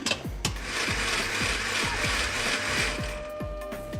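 A blender whirs steadily, its motor churning thick chili paste with a little water, a repeating rhythmic chop under a broad hiss, close and loud throughout.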